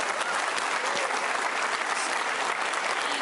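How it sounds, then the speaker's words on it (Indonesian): Seminar audience clapping together, a broad, even roar of applause that holds steady throughout, heard from a little distance with no voice on top. "Berikan tepuk tangan buat Anda semua."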